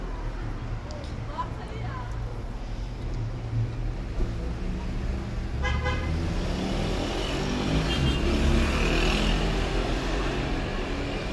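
Traffic passes nearby with rumbling engines and swishing tires, a brief horn-like tone rising above, while a person talks over the noise.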